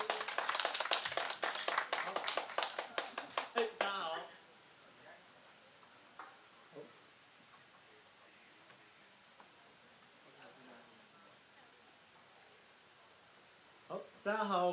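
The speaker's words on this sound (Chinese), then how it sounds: "那再次给他们热情的掌声。" Warm audience applause at a Chinese-language talk show showcase for two interns, loud and steady for about four seconds, then cutting off into a quiet room with faint rustles and a brief return of clapping at the end.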